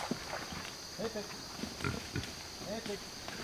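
Low, short pig grunts come in a loose series, fairly close, with faint voices in the background.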